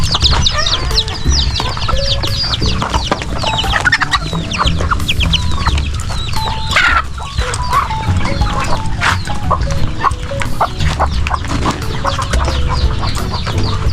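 Backyard flock of pet chickens, with continuous loud, close clucking and squawks from many hens overlapping, plus occasional crowing.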